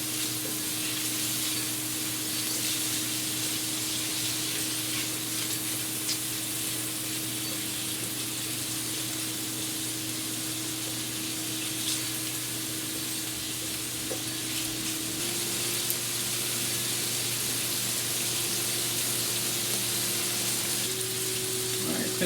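Shrimp fry steadily in hot oil, a constant dense sizzle with faint crackles over a low, steady hum, unbroken for the whole stretch.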